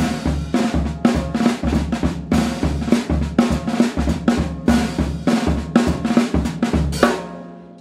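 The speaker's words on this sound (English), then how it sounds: "what you just heard is called the New Orleans Second Line." New Orleans second line drum groove played on a drum kit, a busy syncopated pattern of snare hits, rolls and bass drum thumps, loud and close, ending with a ringing final hit.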